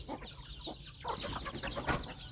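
Chickens cluck in a mixed flock on a Thai farm where ducks and pigs are also kept, with short repeated clucks and calls rising over a busy, noisy background.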